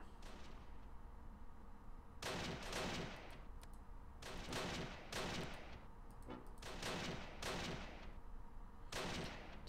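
Bursts of gunfire from a World War II battle in the strategy game Close Combat Last Stand Arnhem, fought around the Arnhem Rail Bridge. Several loud volleys of rifle and machine-gun fire come in clusters over a low, steady background rumble.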